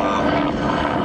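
A Bölkow Bo-105 helicopter flies at an airshow, a loud, steady rotor and engine roar throughout.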